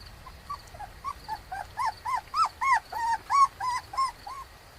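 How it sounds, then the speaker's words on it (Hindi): A frightened puppy whimpers in a string of about a dozen high, rising-and-falling whines that grow louder toward the middle, close and with no talking. "उसके मुंह से लगातार कूं कूं की आवाज आ रही थी, जिससे साफ लग रहा था कि वो डरा हुआ है।"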